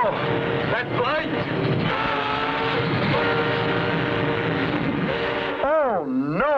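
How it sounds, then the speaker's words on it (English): A loud, continuous rumbling roar of a train in a tunnel, echoing as if enclosed, with a rising and falling whistle-like wail near the end over dramatic music. "A train in the tunnel."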